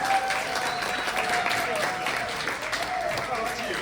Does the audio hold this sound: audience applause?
yes